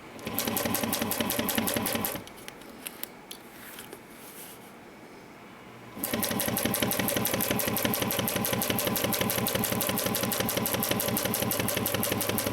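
A sewing machine stitches through vinyl for a mini box tote bag, a fast loud mechanical chatter that runs, pauses for a few seconds, then resumes and keeps going steadily.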